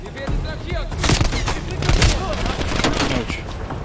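Gunfire from Call of Duty: Black Ops Cold War, in a realism campaign mission. Close bursts of rapid shots crackle and boom over busy game noise, and a voice can be heard in the mix.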